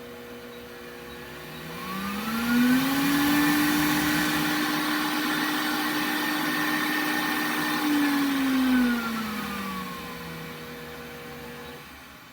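An Aura Roboclean vacuum cleaner starts up with a rising whine, runs at a steady motor hum and suction roar for several seconds, then winds down as the pitch falls, heard alone and close.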